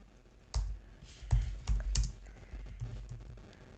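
Fingers type on a computer keyboard nearby, a short burst of soft, irregular key clicks and thumps, with no voices present.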